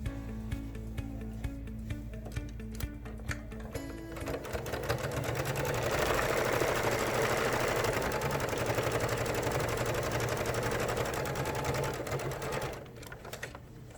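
Sewing machine stitching a seam along the bottom edge of a fabric face mask, a steady close whirring run that builds after a few slower starts and stops, then halts near the end.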